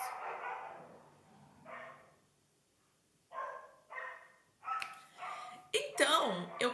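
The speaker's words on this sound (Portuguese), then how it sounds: "E eis que o cachorro aparece." A dog barks several times in short, separate bursts, fairly close, with whimpering yips near the end and a quiet pause in the middle.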